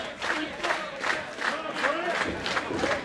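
A wrestling event crowd cheers and chants in waves, a large roaring audience with rising and falling surges of voices filling the arena for several seconds.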